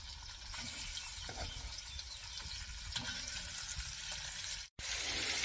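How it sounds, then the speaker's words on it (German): Rabbit pieces searing in a Dutch oven produce a loud, steady hissing sizzle with faint knocks, cutting out for a moment near the end before resuming. "natürlich braten wir die Stücke auch auf beiden Seiten"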